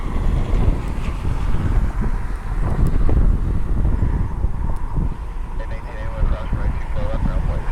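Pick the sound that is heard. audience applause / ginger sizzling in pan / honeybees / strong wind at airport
strong wind at airport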